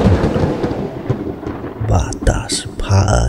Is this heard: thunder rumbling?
yes